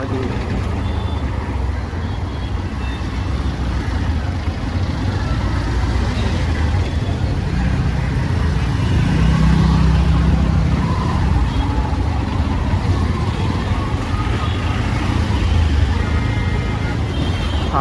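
Continuous road traffic near Pen, Maharashtra, heard from a moving motorbike, rumbles steadily throughout, with passing vehicles blending into a loud, dense roar.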